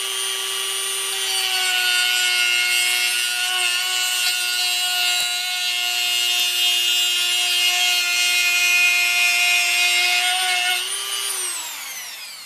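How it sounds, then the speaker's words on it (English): A Dremel rotary tool cuts through PVC pipe, its high-pitched whine held steady and loud for about eleven seconds before it winds down to a stop. "now you want to take your Dremel tool and cut out the line that you traced on here"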